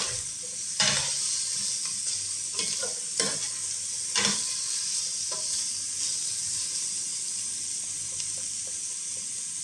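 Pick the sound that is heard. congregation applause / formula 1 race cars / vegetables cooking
vegetables cooking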